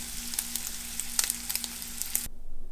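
Turkey bacon glazed with agave syrup sizzles in a pan with a steady, close crackle and scattered sharp pops, quiet and without voices, stopping abruptly near the end.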